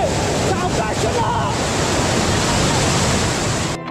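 Roaring rush of dam water overflowing down stone steps at the Bhushi Dam waterfall, a loud, steady, broadband wash close by that continues unbroken and then cuts off abruptly at the end.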